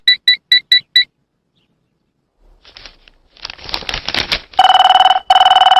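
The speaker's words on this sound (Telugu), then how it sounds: "అబ్బా, ఈ ఫోన్ చంపేస్తున్నా" A phone rings with five quick electronic trills, falls silent, then after some rustling gives two longer, louder bursts of ringing tone.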